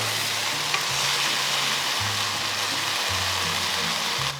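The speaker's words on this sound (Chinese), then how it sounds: "把酱汁儿一股脑的倒进去。" Sauce poured into hot oil with grated ginger and garlic sizzles loudly and steadily in a wok, a dense, continuous frying hiss with low stirring clatter underneath and no voices.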